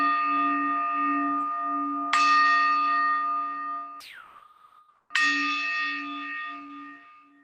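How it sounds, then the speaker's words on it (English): Bells marking the end of a five-minute interval during a lesson: a sustained bell tone, then two bright struck chimes a few seconds apart, each ringing out and slowly fading, with a short swooping tone between them. "you'll hear the bells signifying our 5 minutes on this second side"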